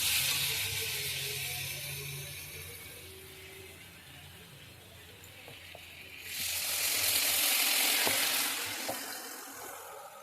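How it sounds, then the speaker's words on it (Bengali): Luchi puffed flatbread fries in hot oil in a pan, giving a soft steady sizzle that swells louder midway, with a few faint clinks and no voices. "এইদিকে লুচি ভাজছি"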